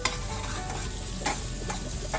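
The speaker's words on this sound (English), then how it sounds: "Give it a good stir." Onions with turmeric and slit green chili sizzle in a pan while a utensil stirs them, giving a few scraping strokes over a steady close frying hiss, with no talk.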